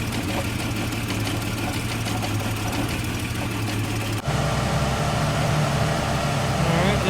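Jeep 4.0L Renix stroker engine idling on stock injectors: a steady, close mechanical idle with a fine rhythmic ticking and a low hum that shifts in tone partway through, running continuously without speech.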